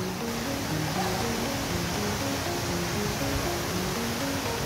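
Lakshinshwori Jharana waterfall in Nuwakot pours in a constant broadband roar of rushing water, steady and enveloping with no pauses, heard alone.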